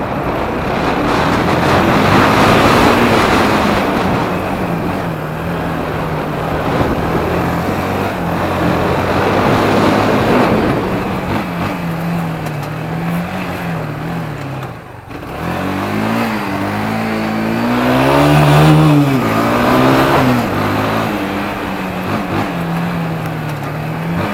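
Kawasaki Bayou 250 quad, an automatic ATV, running during a ride: a continuous mid-pitched engine drone that rises and falls with throttle, loud and close throughout, with a brief dip midway.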